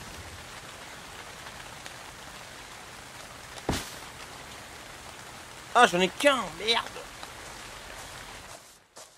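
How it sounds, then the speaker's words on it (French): Steady rain falls in a video game as an even hiss throughout, with a sharp click partway and someone speaking briefly over it before it cuts off. "Ah il pleut."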